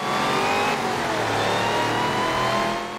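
A Dodge Hellcat's positive displacement supercharger whines high and loud over a roaring engine in Forza 7, the pitch sliding as the car accelerates, sustained and close throughout.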